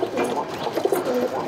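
A male pigeon coos nearby in soft, rolling throaty notes that rise and fall over a brief moment.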